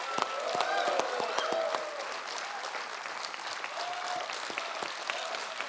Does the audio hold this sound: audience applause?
yes